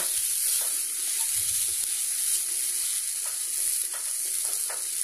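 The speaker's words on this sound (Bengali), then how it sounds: "এটাকে ভালো করে আমি ভেজে নেব" Steady sizzling of sweet potato frying in a pan for a dessert, with occasional stirring scrapes, continuous and fairly close.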